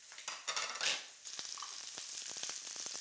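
Crumbled sausage frying in a pan for a sausage pasta makes a close, steady sizzle, with a stirring burst near the start and then continuous crackling and popping.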